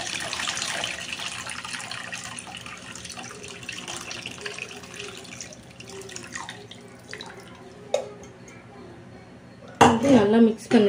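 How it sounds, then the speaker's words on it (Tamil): Water runs and splashes steadily into a pot of sambar for several seconds, followed by a brief clatter and a louder burst of pouring near the end, with talking over it. "நார்மல் தண்ணி ஊற்றிக்கோங்க."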